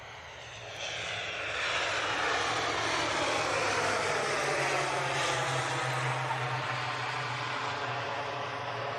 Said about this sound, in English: I was watching that Aer Lingus coming in